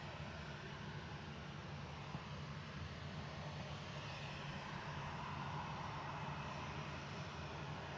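An Emirates airliner arriving at Manchester Airport makes a steady, broad engine roar that holds at a constant loudness throughout, without any voices.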